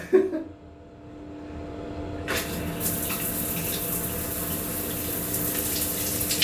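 Shower water on board a Singapore Airlines A380 starts after a brief quiet moment and then runs as a steady, even hiss close by.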